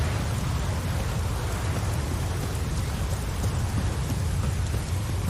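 Steady, dense rain falls in the video game The Witcher 3: Wild Hunt, a continuous hiss and patter with a deep low rumble underneath, even and unbroken throughout.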